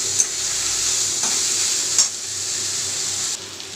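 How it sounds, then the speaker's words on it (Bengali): Gobindobhog rice frying with spices in a pan, a steady loud sizzle with stirring scrapes and a couple of sharper clinks, no talking. "চালটার মধ্যে মশলার সঙ্গে ভেজে নিচ্ছি।"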